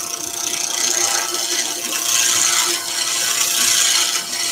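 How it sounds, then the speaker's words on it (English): A sharp gouge cuts a wooden pen blank spinning on a lathe, giving a continuous, close, hissing scrape that swells and eases as the tool moves back and forth, with no talking. "nice sharp gouge. It should cut really easy, and I'm just going back and forth"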